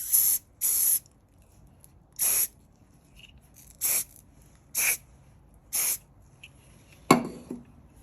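Glue activator sprayed from an aerosol can in a garage shop during a fountain pen build, heard as six short hissing bursts with pauses between, followed by a sharp knock.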